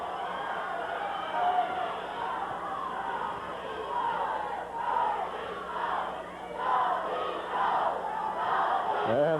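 Wrestling crowd chanting "Go, Steve, go" in a rhythmic repeating cadence for Steve Pardee during a main event bout against Playboy Buddy Rose, loud massed voices swelling and falling over an arena roar.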